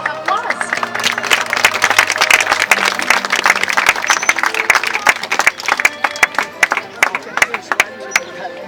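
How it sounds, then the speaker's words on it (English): Audience applause at a dolphin show in Curacao, dense clapping from a crowd throughout with sharp individual claps standing out near the end, under background crowd noise and a faint voice. "give them a very warm applause"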